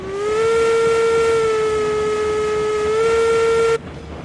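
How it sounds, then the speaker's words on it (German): A steam locomotive whistle in the railroad game Railroads Online blows one long, steady, loud tone for several seconds, then cuts off sharply, leaving a low hiss behind. "Mal kurz die Pfeife ausprobieren."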